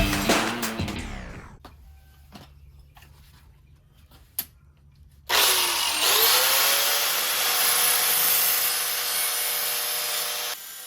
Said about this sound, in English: I'm trying to get my post hole digger sharpened up